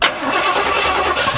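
A 1972 Oldsmobile Cutlass engine cranks and catches, then runs with a rough, boggy roar throughout. The sound is loud and close, and no one speaks over it.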